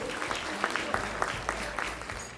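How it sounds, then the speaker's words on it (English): A graduation-day audience at a kids' school claps for a group of performing ladies, a soft, distant, even patter of many hands with a few sharper claps standing out. "Can we have a resounding round of applause, please, for the Wonder Ladies of the PSG group?"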